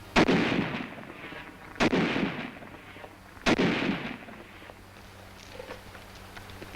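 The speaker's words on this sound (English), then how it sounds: "A Tommy gun." A Tommy gun fires during a 1943 World War II combat film, with three loud, close blasts of gunfire, each trailing off into a rumbling echo, followed by quieter background noise.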